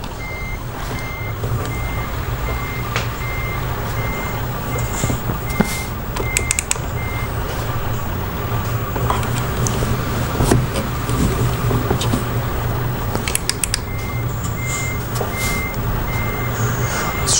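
A lorry's reversing alarm beeps steadily and repeatedly over a continuous engine rumble as it manoeuvres at a gate, with occasional brief hisses and clunks.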